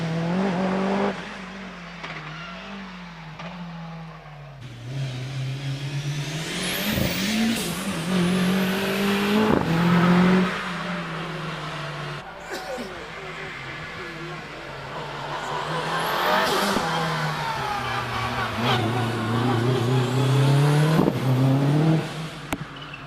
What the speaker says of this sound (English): We switch to the Evo 6 Mitsubishi of Stephen Moore, number 90